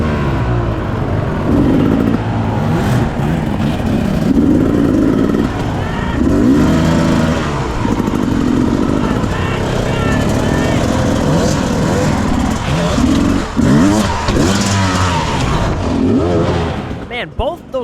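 A 2021 Beta 300 dirt bike engine revs and bogs continuously at a hard enduro race over rocky terrain at the Tennessee Knockout, loud and close, with throttle surges rising and falling throughout.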